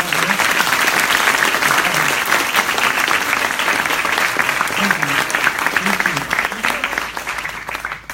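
A large audience gives a steady, loud round of applause for a woman being honored at a startup demo day, dense clapping sustained for about eight seconds before easing off at the end, with faint voices mixed in.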